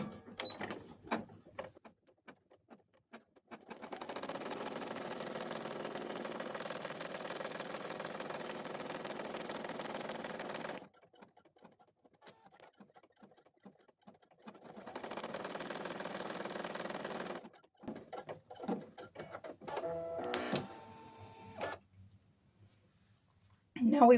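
Sewing machine stitching a cloth doll, with two long, steady whirring runs separated by a quiet pause, then short bursts and clicks, and a voice speaking between the runs.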